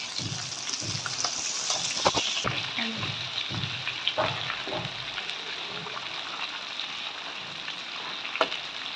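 Fish fries in mustard oil over low to medium heat while being turned, giving a soft continuous sizzle with scattered clicks and scrapes of a utensil, fairly faint.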